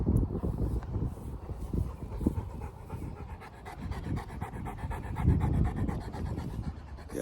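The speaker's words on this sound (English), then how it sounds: "Big, beautiful dog." A big Boerboel pants hard and steadily in a backyard field, the rapid breaths close and continuous with rustling movement throughout.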